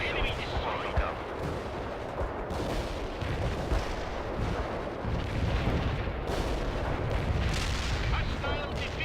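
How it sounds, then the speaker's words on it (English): Mortar barrage artillery fire in World in Conflict, dense booming explosions and gunfire rolling continuously at mid distance, with radio-style voices speaking over the battle. "Firing mortar. The barrage will reach you soon."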